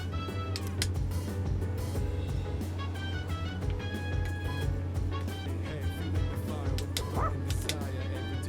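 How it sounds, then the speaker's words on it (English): Repeated dog barks and yips from the video game Persona 3 Reload, several quick bow-wows over steady background game music and a low hum, fairly close and clear. "Is that your dog?"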